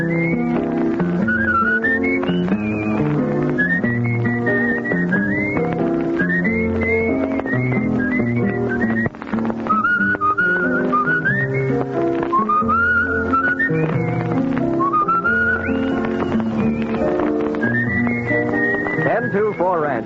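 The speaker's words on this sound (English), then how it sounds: "It's time to be whistling along." Someone whistles a bright, melodic tune on an old radio show, with swooping phrases over continuous musical accompaniment, loud and up front throughout.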